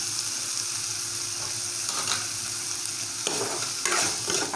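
Meat fries in a pan as it is stirred, giving a steady, close hiss of sizzling with occasional scraping strokes and brief bursts of louder crackle, no voices.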